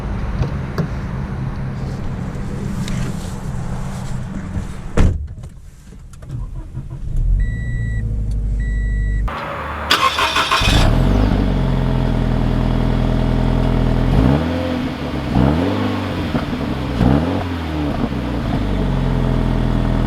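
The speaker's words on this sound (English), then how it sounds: "let's take this Hakone Edition out to see how it drives with the automatic transmission" A 2020 Toyota 86 Hakone Edition with automatic transmission drives off, its engine note steady and close, with a brief loud burst midway and rising, falling revs as gears change; no talking.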